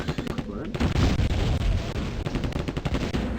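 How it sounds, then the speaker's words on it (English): Gunfire in The Terminator: Future Shock, fired inside a warehouse, comes as dense, loud overlapping bursts of shots and impacts with a booming low end across the whole stretch, mixed with game noise. "if you shoot at the floor, you hurt yourself for some reason"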